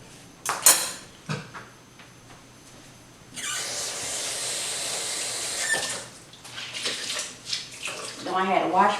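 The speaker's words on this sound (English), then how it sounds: "Now I had to wash my hands." Hands are washed at a kitchen sink while making homemade cinnamon rolls, with a tap running for a few seconds of steady rushing water, short clinks and scrapes before it, and splashing and rubbing after.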